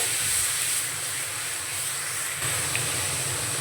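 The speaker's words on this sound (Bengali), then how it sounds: "তো এবার দিয়ে দেব রসুন বাটা। রসুনটাকে ভেজে নেব।" Garlic paste fries in caramelised sugar in a pan, giving a steady, loud sizzling hiss that runs unbroken from start to finish.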